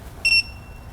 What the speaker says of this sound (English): Why are you beeping when you're not at the proper torque?